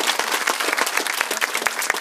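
Church congregation giving a loud, sustained round of applause during a Marian devotion in October, dense clapping throughout with a few sharper claps standing out, no talk over it.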